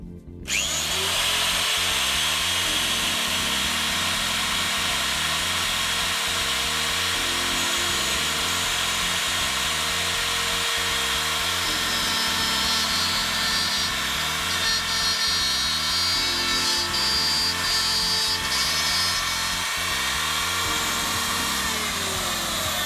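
A router cutting flutes into a sycamore platter held on a lathe-mounted fluting jig, a loud, close, continuous high-pitched whine with a steady buzzing drone underneath that runs throughout.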